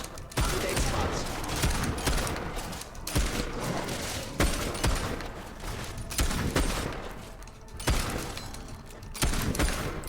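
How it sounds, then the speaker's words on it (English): Gunfire crackles in a Fable 3 battle against balverines, with rapid overlapping shots and sharp impacts. The loud volleys keep up steadily across several seconds, with brief lulls in between. "Stop shooting people who are way over there."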